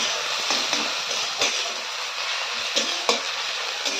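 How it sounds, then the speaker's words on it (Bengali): Crushed garlic sizzles steadily in hot oil with softened onion in a pan, a continuous loud frying hiss broken by occasional scrapes and stirs of a spoon. "এইবার এর মধ্যে দিয়ে দেব থেতো করে রাখা রসুনটাকে"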